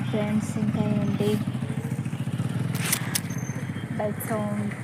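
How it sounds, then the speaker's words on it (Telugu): A motorbike carrying a rider runs nearby on a village road, its engine putter rumbling steadily underneath several people talking, with a brief clattering burst partway through. "బైక్ సౌండ్, ఆ సౌండ్"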